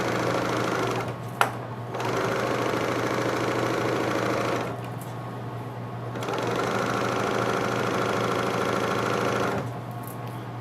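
A serger runs with no thread, its knife trimming quilt fabric. It hums and whirs close by in three bursts, with brief pauses and a small click between runs.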